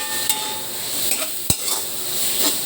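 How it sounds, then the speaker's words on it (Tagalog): Santol fruit sautés in a pan for sinigang with a fine, continuous sizzle, marked by occasional stirring scrapes and one sharp knock of a utensil partway through. "igigisa mo natin itong santol para maluto siya"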